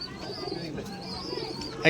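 Pet pigeons, including a Simi breed pair, coo softly on an abandoned rooftop loft, a steady murmur beneath nearby conversation, ending with a brief louder sound.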